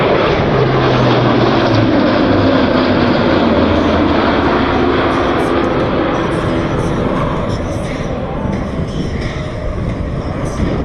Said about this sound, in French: L'Atlas va maintenant revenir sur votre droite pour un performance tactique de l'appareil